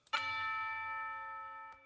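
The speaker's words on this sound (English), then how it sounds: "tubular bells" A single tubular bell is struck once, ringing out with a bright, sustained metallic tone that decays slowly, followed by a faint second tap near the end, heard alone.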